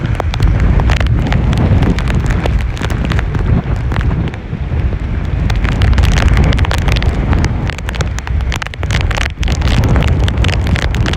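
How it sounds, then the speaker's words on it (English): Hurricane Ian's wind at landfall on St. Pete Beach, Pinellas County, roaring steadily and loudly across the microphone for the whole stretch, with heavy buffeting gusts and no voices. "Comes the wind"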